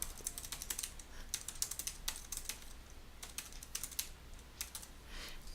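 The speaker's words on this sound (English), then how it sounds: "you can just type in that case, the title" Rapid clicking of a computer keyboard as a journal title is typed into a library search; quiet, close keystrokes in uneven bursts with short pauses, no voices.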